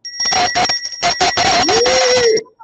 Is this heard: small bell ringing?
yes